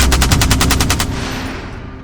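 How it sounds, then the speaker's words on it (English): An M240 machine gun fires a short burst of roughly nine loud, rapid, evenly spaced shots close by, then the report rings out and decays into a fading echo. "The M240 Billion is known for its reliability and high rate of fire"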